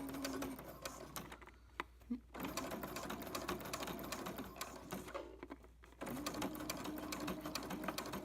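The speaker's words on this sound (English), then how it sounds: "So just keep sewing. Keep sewing." Sewing machine stitching quilt binding, a fast steady mechanical whir that runs, pauses twice briefly, then resumes, with faint talk in the background.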